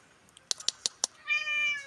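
A cat gives a single clear, close meow near the end, preceded by a few soft clicks and taps in a quiet room.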